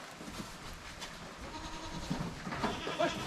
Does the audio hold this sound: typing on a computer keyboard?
no